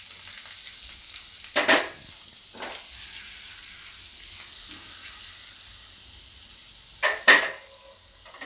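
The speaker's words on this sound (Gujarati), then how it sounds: "હવે આપણે એમાં હિંગ નાખીશું." Ginger and asafoetida drop into hot oil for a Gujarati dry mung bean curry. A soft continuous sizzle is broken by two brief louder hissing bursts as each ingredient hits the pan, close and without talk.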